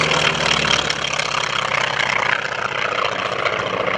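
A T-28 Trojan trainer aircraft flies by at an airshow with a steady, loud propeller-engine roar that stays close and constant throughout.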